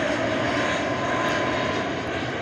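Airplane engine near Mactan airport, a steady broad roar that holds loud and close throughout with no talk over it.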